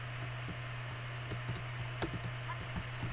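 Quiet computer keyboard typing, with scattered soft key clicks at an irregular rhythm over a steady low electrical hum.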